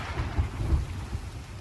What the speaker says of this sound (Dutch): we hebben gewoon storm op zee